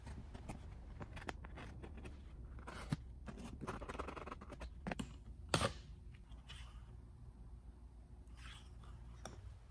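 A knife cutting cardboard by hand gives quiet, irregular scratches and sharp scrapes, with one louder slicing rasp midway, in a quiet room with no talking.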